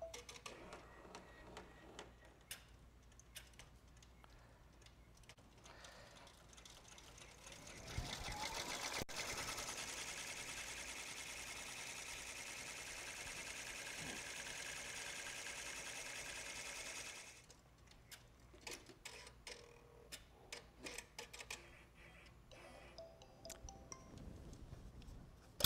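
Brother Entrepreneur PR1055X embroidery machine stitching a hat: a steady, fast mechanical whir and needle clatter runs continuously for about nine seconds, framed by quieter ticking and handling noises before and after.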